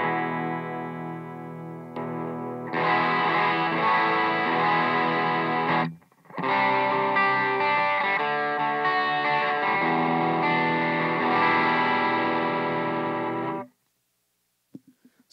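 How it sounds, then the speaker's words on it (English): Sustained electric guitar chords through a direct-drive overdrive pedal, with warm, gritty tone, played loud and close, briefly cutting out midway, then stopping with a few faint clicks. "The direct drive I use for overdrive tones."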